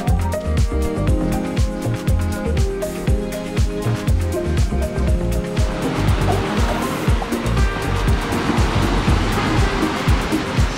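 Surf at Secret Beach on Koh Phangan, Thailand, washing in a loud, continuous rush with rhythmic pulses, the roar thickening partway through as waves break nearby.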